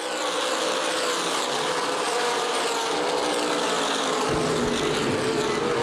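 Late model sportsman race cars lap Winchester Speedway as a pack, a steady wide roar of engines with a whining tone holding over the full stretch, no voices.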